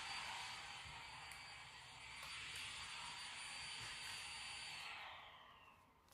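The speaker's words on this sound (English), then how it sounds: "the vacuum's going to be a little loud" A vacuum cleaner runs with a loud, steady broadband whine and rush, holding level for several seconds and then winding down toward the end, with no talk.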